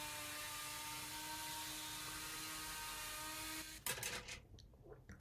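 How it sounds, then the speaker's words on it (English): A power sander with 60-grit sandpaper grinds wood with a loud, steady droning whir, then stops abruptly and leaves scattered clatter and rustling. "For the sanding, I used some 60 grit paper."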